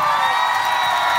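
Crowd cheering and whooping at a Dandiya night in Brisbane, Australia: a loud, sustained, bright roar from many voices that fills the whole short moment with no break.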